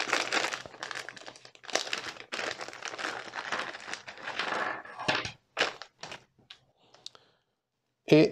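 Bubble wrap around a Victron Cerbo GX unit being handled and pulled open: busy crinkling and crackling for several seconds, then a few sparse clicks and rustles trailing off, close and fairly quiet.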